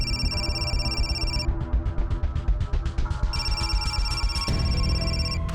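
An electronic phone ringtone chimes in repeated tones over a busy background, pausing briefly before starting up again.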